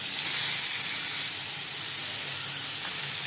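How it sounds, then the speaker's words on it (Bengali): Steady close hiss and sizzle as chopped bottle gourd hits hot oil with a spice tempering and grated ginger, a continuous frying sound without breaks. "এর মধ্যে দিয়ে দেবো আমি এখন কুচি করা লাউগুলো।"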